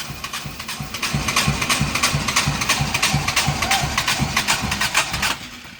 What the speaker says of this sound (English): it's only firing on like one cylinder